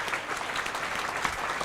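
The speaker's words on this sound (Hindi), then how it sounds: "ताली बजा के प्रभु को महिमा दे" Congregation at a Saturday satsang claps together in praise of the Lord, a dense, steady burst of many hands filling the room for a moment.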